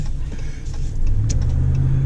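A tuned 2019 RAM 1500 pickup pulls away under throttle, its low engine drone swelling louder partway through and holding steady, heard close from inside the cab with no talking.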